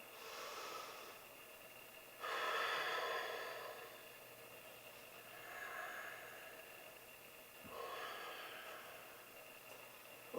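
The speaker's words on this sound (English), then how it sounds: "breathing." Slow, audible breaths during a challenging yoga session, with long soft inhales and exhales rising and falling in waves about every few seconds over a faint steady background hiss.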